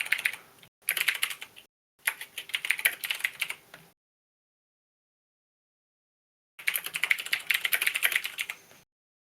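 Rapid typing on a computer keyboard, two bursts of dense clicking separated by a short pause, then silence, then another long burst, close and alone without talk.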